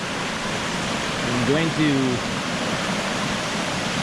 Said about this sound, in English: I hear something down there. I don't know if it's the big waterfall.